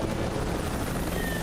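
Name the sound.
helicopters flying in Captain Scarlet episode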